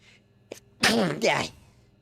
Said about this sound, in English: That's just sneezes.